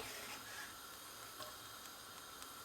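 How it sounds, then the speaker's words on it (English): Onions sauté in a pan of butter and olive oil for Turkish cooking, giving a steady, fairly quiet sizzle and hiss throughout with a few faint stirring ticks. "We always begin with the butter and olive oil, then sauteing some onions"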